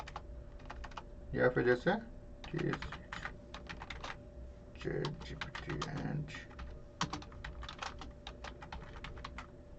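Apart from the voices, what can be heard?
typing on a computer keyboard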